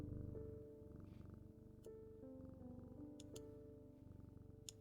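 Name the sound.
cat purring while being petted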